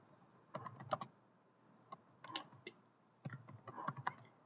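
Typing on a computer keyboard, with bursts of quick key clicks separated by short pauses, close and quiet with no talking.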